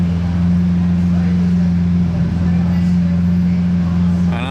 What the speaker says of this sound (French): elle a un échappement aussi cette SLR en plus